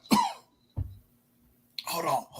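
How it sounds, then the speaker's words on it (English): A man coughs and clears his throat in short separate bursts, close and fairly quiet, with pauses between them. "I got a cough I can't catch."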